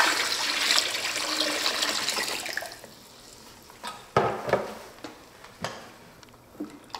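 About 3.2 litres of water pours into a batch of JADAM sulfur mixture as a steady, close gushing splash. It stops after a few seconds and gives way to scattered knocks and clatter.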